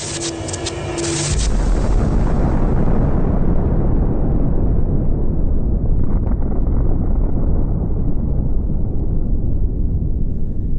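A massive explosion erupts into a loud, sustained roaring rumble that slowly darkens and rolls on without letting up.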